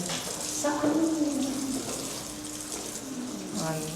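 Water runs from a tap in a newly handed-over house, a steady close hiss that lasts the whole stretch while a person talks over it.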